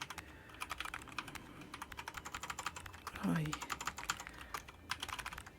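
Rapid keyboard typing from the game CozyTyper, a dense run of sharp clicks that carries on steadily with only brief pauses, close and clear, with a short low thump partway through.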